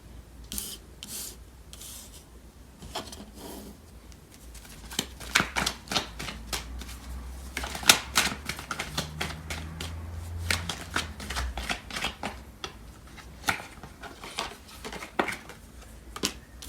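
A deck of tarot cards being shuffled: soft, quiet riffling and rubbing of cards in irregular bursts, close by, with no talk.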